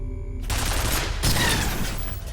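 Gunfire in the game F.E.A.R. erupts after a brief musical tone, a dense burst of shots with a heavy impact partway through, loud and close, rolling on without any talking.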